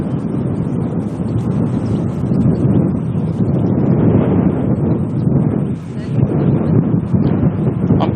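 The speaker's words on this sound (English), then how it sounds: "wind's not too bad" Wind buffets a microphone outdoors while plane spotting at Auckland airport, a loud, continuous broadband rumble that swells and dips slightly.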